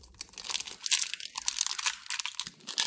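A Pokemon card booster pack is torn open up close, with crinkling foil and tearing bursts running continuously at moderate loudness, and no talking.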